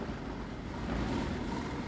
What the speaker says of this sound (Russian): Ветер бешеный.